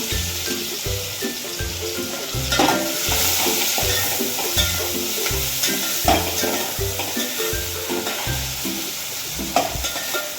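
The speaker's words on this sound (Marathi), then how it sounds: "कांदा चांगला ट्रान्सफर होईपर्यंत भाजून घेऊया" Chopped onion frying in a pan, a steady oily sizzle overlaid with regular rhythmic scraping and clanking strokes as a spoon stirs it, close and fairly loud.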